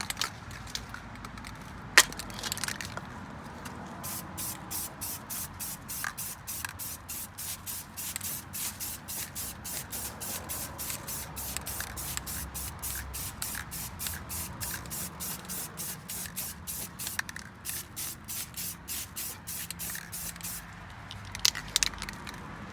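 An aerosol can sprays red paint onto car brake calipers in a steady hiss lasting many seconds, with the can's rapid rattling pulses running through it and short pauses at the start and end.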